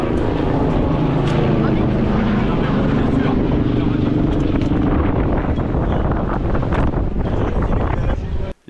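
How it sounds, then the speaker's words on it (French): A fire service rescue helicopter passes overhead near a Mediterranean beach, a loud, sustained rotor and engine roar mixed with wind buffeting on the microphone, ending abruptly. "Les pompiers ont fait appel à l'hélicoptère pour transporter l'ami de Thomas sur Perpignan."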